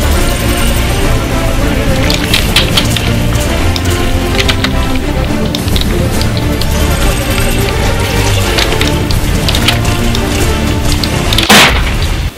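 Gunfire in the Fortnite video game: a dense, loud stream of shots and booming impacts runs continuously, with a sharp burst standing out near the end.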